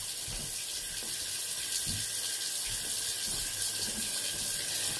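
Tap water runs steadily into a bathroom sink during face washing, a continuous hissing splash with a few soft low thumps from hands moving in the stream, close by and without talk.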